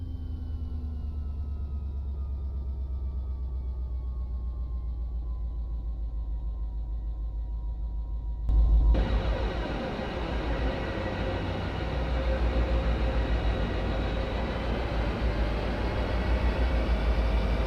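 F40PH diesel locomotive in Train Simulator Classic, heard from outside with head-end power switched off: a steady low engine rumble with a faint whine, then a sudden shift to a louder, rougher idle that continues to the end.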